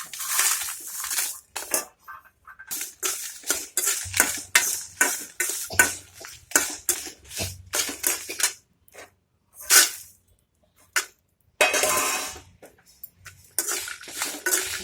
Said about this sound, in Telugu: ఇప్పుడు ఎండుమిర్చి, వెల్లుల్లి రెండు వేయించాలి.